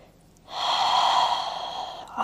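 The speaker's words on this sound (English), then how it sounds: "Take a full breath." A full, deep breath drawn in during a yoga flow, a long audible airy inhale lasting over a second, close and fairly loud, with no talk over it.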